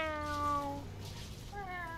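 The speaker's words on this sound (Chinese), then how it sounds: "倒下会猫叫声。" Cat meow effect from Monster Hunter World: Iceborne, heard when a character falls: two clear, close, drawn-out meows, the second starting after a short pause.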